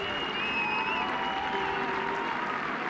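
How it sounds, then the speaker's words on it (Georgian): Rugby stadium crowd at a Germany versus Georgia Rugby Europe Championship match applauds an injured player leaving the field, a steady wash of clapping throughout with some whistles above it. "რა თქმა უნდა, მასაც ტაშით გააცილებს მაყურებელი."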